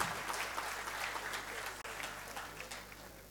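Soft applause from a seated audience at an academia–industry session as a speaker is welcomed onto the dais, a steady wash of claps with a faint low hum beneath and a brief dropout midway.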